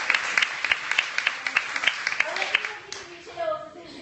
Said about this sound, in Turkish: bu güzel bir alkışı hak eden